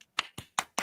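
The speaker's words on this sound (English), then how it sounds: "Yay! I had to clap." Four sharp hand claps at a steady, slightly uneven pace, close and fairly quiet, with brief silence between each.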